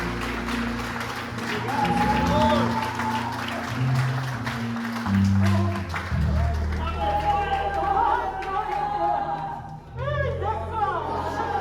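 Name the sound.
congregation applauding in church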